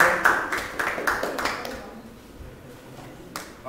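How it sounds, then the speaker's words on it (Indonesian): A classroom group claps for a student team after its presentation, a burst of close hand claps that thins out and fades to a few scattered taps. "kasih tepuk tangan untuk kelompok 2"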